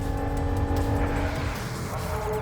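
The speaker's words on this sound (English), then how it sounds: "Brits gives us a demonstration of the true power of that flat six motor as he pushes the accelerator down and leaves Keane's Mercedes-Benz behind him" A Porsche flat-six race car in a historic car race pulls away from a Mercedes-Benz, its engine a steady, loud, continuous roar with a sustained low rumble throughout.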